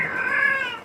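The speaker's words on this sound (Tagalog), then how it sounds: "yung pusa ko maingay yung nakikisali din" A house cat meows loudly and close by, one drawn-out, wavering call lasting under a second, in a kitchen where chop suey with pechay is being cooked.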